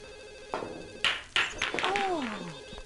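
Telephone ringing in The Sims life-simulation game: several electronic ring bursts in quick succession, clear and fairly loud, followed by a sliding chime tone.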